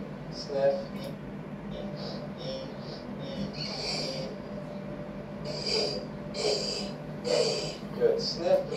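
A patient takes repeated deep sniffs during a doctor's examination, sharp nasal inhalations recurring every second or so, close and clear, with quiet talk in between.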